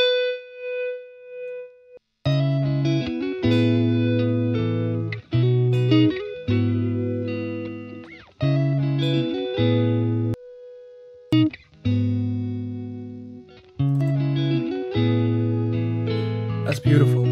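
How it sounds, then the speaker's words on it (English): Electric guitar notes fade in as the volume knob is rolled up, each chord swelling and ringing out with heavy reverb in a slow, repeating pattern, played alone. "hitting the notes and then play around with the volume knob on the guitar"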